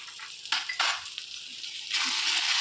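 Masala khara chilli powder with salt and jaggery frying in a pan for a North Karnataka stuffed brinjal curry, a steady hiss broken by a few sharp scraping and clinking bursts from stirring, with no talk.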